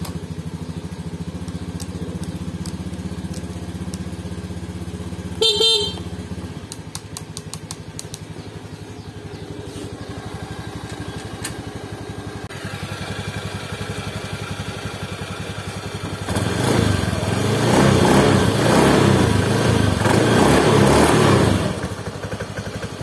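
A motorcycle engine idles steadily close by with a low rumble, then revs up louder for several seconds before settling back to idle.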